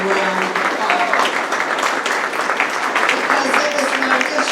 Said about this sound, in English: please give her a welcome round of applause